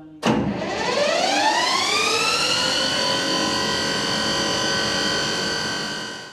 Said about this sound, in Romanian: Pornește motorul care duce aerul în toate încăperile